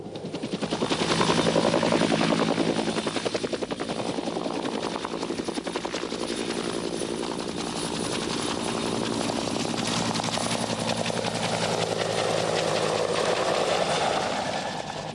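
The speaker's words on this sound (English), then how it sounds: "Sea Cobras and their improved variants form the backbone of marine attack helicopter" Heavy rotor thudding and engine roar dominate, loud and close, with a rapid rhythmic chop as a Sea Cobra attack helicopter flies overhead.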